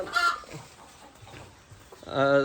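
Free-range country chickens on a one-acre backyard farm cluck in short harmonic bursts at the start and again at the end, with a quieter stretch of farmyard noise in between.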